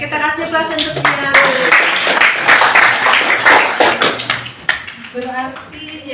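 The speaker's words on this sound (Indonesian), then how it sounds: "kita kasih aplaus untuk dia" Applause from a small audience at a casual business-plan and product-development talk, a burst of clapping that swells and fades over several seconds while people speak over it.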